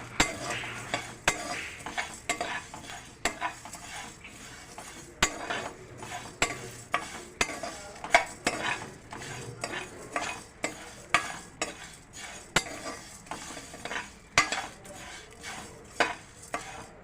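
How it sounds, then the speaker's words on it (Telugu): Poppy seeds roast in a pan for a chicken pickle, a quiet crackle under repeated sharp clinks and scrapes of a spoon stirring at a fairly regular pace. "గసగసాలు చెట్టుపట్టమంటున్నాయి."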